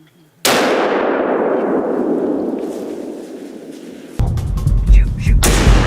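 A single loud rifle gunshot cracks out during a hunt for bears on California farmland, booming and then decaying over several seconds before voices and handling noise follow.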